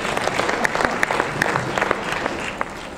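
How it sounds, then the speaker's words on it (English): An audience applauds a speaker at a marketing conference. The clapping is dense and sustained, with crisp individual claps standing out near the listener. "So thank you. Applause."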